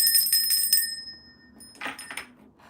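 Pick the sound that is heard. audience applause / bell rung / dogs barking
bell rung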